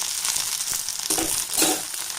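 Finely chopped okra sautés in a hot pan for sambar, sizzling steadily with a bright, dense hiss and a few brief stirring scrapes close by.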